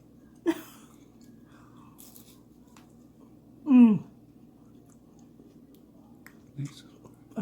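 Crisp Filipino meat and vegetable lumpia crunches in a single loud bite close to the mic, with a couple of fainter chewing clicks around it in an otherwise quiet room.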